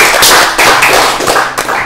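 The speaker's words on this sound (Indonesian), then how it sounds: "Tepuk tangan dulu dong, Bapak" Audience in a hall applauding after a talk on the Indonesian TNI bill, loud and close-miked, the clapping running in uneven bursts and briefly dipping partway through.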